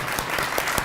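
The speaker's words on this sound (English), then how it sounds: "let's really give her an applause." Steady applause from a crowd, dense clapping filling the whole moment with no voices.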